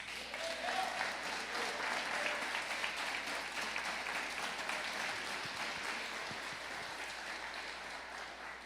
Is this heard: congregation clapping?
yes